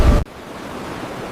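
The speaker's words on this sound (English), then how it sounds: "In the beginning, there was only ocean and mist." Steady broadband ocean surf and misty wind wash rolls on evenly after a brief louder burst at the start, with no voices present.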